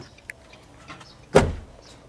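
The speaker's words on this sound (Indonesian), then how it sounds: "kita buka pintu bagasinya, agak sedikit bunyi dan hidroliknya sudah agak melemah rupanya ya" The tailgate of a 2016 Datsun Go+ T Style manual hatchback, its hydraulic struts weakened, opens with a single sharp, close clunk after a few faint rattles and clicks.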